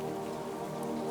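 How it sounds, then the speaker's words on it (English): Steady rain falls in a continuous, even patter, a soft unbroken wash of drops with no other sounds. "The rain falls, steady and endless"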